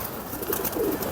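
A Lal Pari Kasuri pigeon gives a brief, soft coo, close by, over a noisy background.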